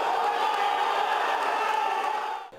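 A crowd roars and cheers at a jiu-jitsu championship bout, a loud sustained wall of shouting and whooping that holds steady before cutting off abruptly at the end.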